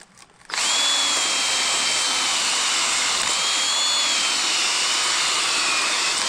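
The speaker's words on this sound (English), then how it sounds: "So you want to know a fast way to clean the inside of a rusty spring out? You just take a wire wheel like that" A wire wheel spun by a power drill scours rust from the inside of a coiled spring, a loud, steady high whine that starts abruptly after a brief quiet moment and runs continuously with slight pitch wavers.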